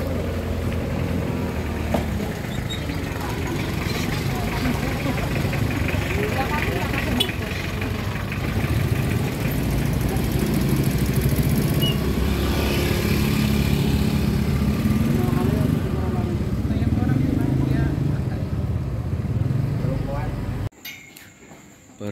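A motorcycle engine idles near trucks at a weighing stop, a steady, loud mechanical drone that runs unbroken for about twenty seconds and then cuts off abruptly.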